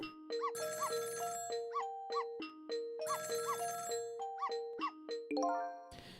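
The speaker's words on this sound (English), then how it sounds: "It's the sound of a telephone ringing coming from the apartment next door." A video-game telephone ringing in the apartment next door, a repeating electronic bell-like ring pattern in clear bursts, moderately loud, with no talk over it.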